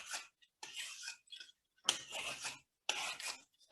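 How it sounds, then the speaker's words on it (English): A vegetable peeler scraping the outer skin off a carrot in short, close rasping strokes, about four quick pulls separated by brief pauses. "we're taking off the outside skin until you start to see that bright orange all the way around, turning as you go"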